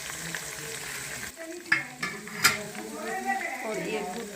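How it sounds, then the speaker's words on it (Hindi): Garlic, ginger and green chili paste sizzles in a pan while a spoon stirs and scrapes, with a few sharp clinks of metal against the pan over the steady close frying hiss. "ये हम अच्छे से भूनेंगे"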